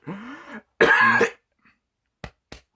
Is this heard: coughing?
yes